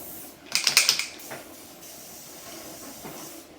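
A small aerosol spray can hisses in a short burst of several quick puffs onto a chocolate ice cream log with mandarin sorbet insert, close and fairly quiet, followed by faint room noise and a couple of soft clicks.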